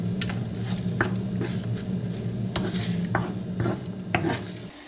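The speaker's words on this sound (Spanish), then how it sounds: "aquí seguimos removiendo para que nos quede un buen revuelto de huevos, espinacas y gambas" A utensil scrapes and stirs scrambled eggs with spinach and prawns in a pan over medium heat, soft irregular scraping strokes with light clinks and a faint sizzle, close and fairly quiet.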